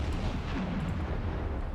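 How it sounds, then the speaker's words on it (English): A torpedo strikes a ship in the submarine game Silent Hunter 4, producing a loud, heavy, continuous explosion rumble that fills the whole short moment with deep roaring power. "Torpedo impact."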